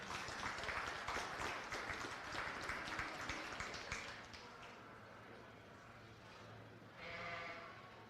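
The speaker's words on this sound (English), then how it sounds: "Let's make sure to give him a big round of applause." Audience applause at a county fair sheep show, with a sheep or two bleating amid it; a steady round of clapping fills the first half, then fades to a lower crowd murmur with a brief swell near the end.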